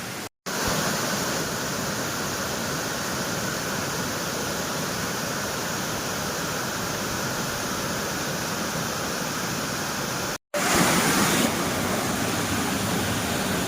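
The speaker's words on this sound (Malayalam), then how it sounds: "ചെറു വെള്ളച്ചാട്ടങ്ങൾ 1, 2," A small rainy-season waterfall at Kodangad, Kondotty, rushing over rocks in a dense, unbroken roar that holds steady throughout, with a brief dropout near the start and another near the end, and no voices.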